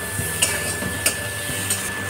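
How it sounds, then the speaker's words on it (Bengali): Taro being sautéed with chilli, cumin and pepper powders in a pan, a steady low sizzle broken by a few sharp scrapes and clinks of a spoon against the metal, with no talking. "মশলার সাথে খুব ভালো করে কষিয়ে নেব"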